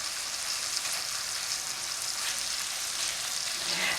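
Onion and garlic frying in a pan over high heat, giving a steady, bright sizzle that carries evenly throughout with no voices.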